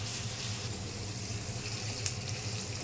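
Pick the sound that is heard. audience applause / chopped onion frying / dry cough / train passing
chopped onion frying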